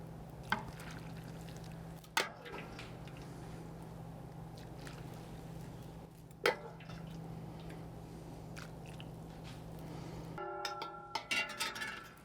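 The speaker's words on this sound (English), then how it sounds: "we're going to add our wonderful clear pho broth" Clear pho broth is poured into a serving bowl, a soft continuous liquid wash with a few small splashes and drips, faint and close, ending in a brief clatter, with no voices.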